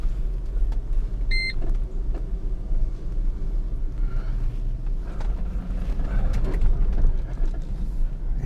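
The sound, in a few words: car driving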